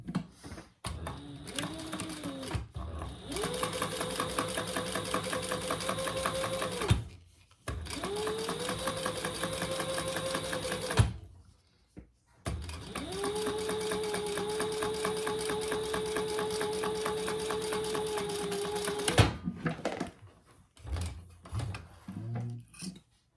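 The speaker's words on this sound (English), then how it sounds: "I'm just going to fold that seam down towards the outside, and I'm just going to do a little top stitch on there" A sewing machine top-stitches a vinyl wallet seam, running in three long steady whirring bursts with short pauses between, close and loud with no talk.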